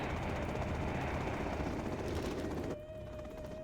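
A Chinook helicopter in Command & Conquer Generals Zero Hour gives a dense, steady rotor and engine roar that drops off abruptly near the end, leaving a fainter hum.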